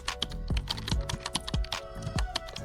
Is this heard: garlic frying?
no